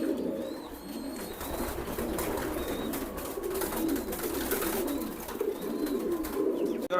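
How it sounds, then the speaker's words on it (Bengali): Several racing pigeons coo in low, rolling calls close by, overlapping continuously with faint chirps and a soft background hum. "আর কবুতরগুলো দেখেন হেলদি অ্যাক্টিভ"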